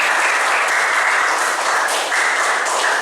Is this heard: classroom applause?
yes